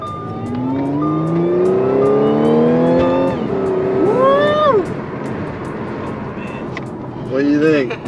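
Audi B8/B8.5 fitted with a CTS intake accelerating hard in sport mode, loud rising engine note climbing through gears with sharp shifts and intake whoosh, close and sustained.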